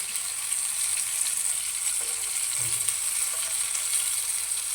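Stuffed tinda (round gourd) frying in a pan, giving a steady, even sizzle with a bright hiss throughout and a couple of faint stirring clinks, close by with no talking.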